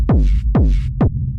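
Industrial techno kick drum through a drum bus with drive and crunch, three heavy booming hits with falling pitch and a gritty distorted tail, evenly spaced and loud.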